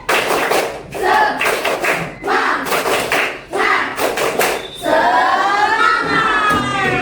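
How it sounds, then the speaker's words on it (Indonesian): Enthusiastic group clapping from students in a classroom, a fast run of rhythmic claps and thuds that gives way to cheering voices and shouts. "Tepuk semangat yang paling semangat."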